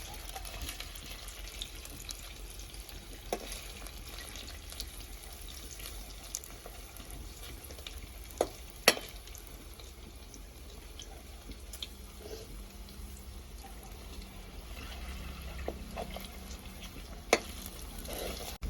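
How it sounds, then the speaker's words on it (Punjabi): Paneer pieces shallow-frying in oil on a stove until browned, for malai chili paneer: a steady close sizzle and hiss with occasional sharp clicks and stirring knocks, no voices. "ਪਨੀਰ ਨੂੰ ਵੀ ਆਪਾਂ ਹਲਕਾ ਹਲਕਾ ਬ੍ਰਾਊਨ ਕਰ ਲਵਾਂਗੇ ਉਨੀ ਦੇਰ ਤੱਕ ਪਕਾਵਾਂਗੇ ਆਪਾਂ ਜਿੰਨੀ ਦੇਰ ਤੱਕ ਆਪਣਾ ਪਨੀਰ ਬ੍ਰਾਊਨ ਨਹੀਂ ਹੋ ਜਾਂਦਾ"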